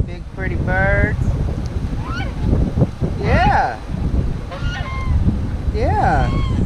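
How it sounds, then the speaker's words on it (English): Geese honk nearby in a series of about five loud, nasal calls spread through the clip, over a background of rushing wind. "Geese. I see you."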